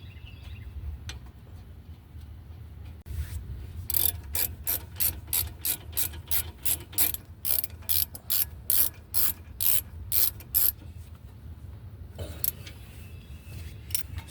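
A ratchet tightening the front brake caliper bolts on a 2019 Infiniti QX60 3.5L, a run of quick, loud, evenly spaced clicking bursts up close, with pauses before and after.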